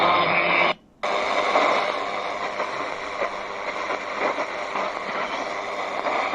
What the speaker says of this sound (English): and again China National Radio jamming them